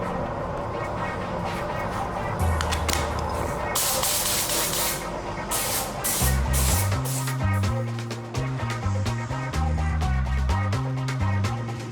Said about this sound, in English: To apply the primer, I'm using a special primer spray gun like this.